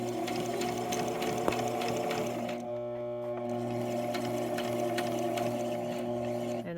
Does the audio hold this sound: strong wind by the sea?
no